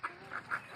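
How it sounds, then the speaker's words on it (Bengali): A Chinese duck at a village chicken shed gives three short, fairly faint quacks spaced about a quarter-second apart, with no one talking over them. "একটা চীনা হাঁস আছে"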